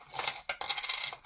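£2 coins clinking and jingling as a handful is handled, a bright, close metallic rattle with a few sharper clatters, no voices.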